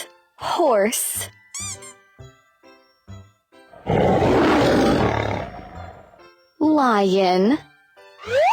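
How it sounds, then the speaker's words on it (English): A lion gives a deep, loud, sustained roar in the middle, framed by bright, warbling animal calls at the start and end, with short spoken bits in between. "Lion."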